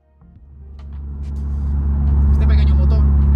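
A modified Nissan 200 SX with a small engine of roughly 200 horsepower runs, its deep, steady rumble swelling from quiet to a loud, constant drone close by.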